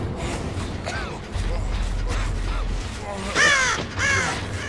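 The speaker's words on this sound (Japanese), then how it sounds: "あ、カラスが鳴いちゃった。" Crows caw in the Dead by Daylight horror game, with two or three harsh calls near the end, reasonably loud over a low rumbling ambience and faint in-game mechanical noises.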